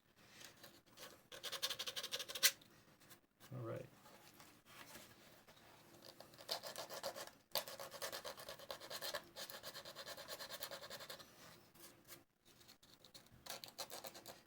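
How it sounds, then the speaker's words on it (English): A 3D printed part is sanded by hand with soft, uneven scratching strokes that come in short bursts and pauses at close range, and a voice speaks briefly. "Like I'm sanding in your room."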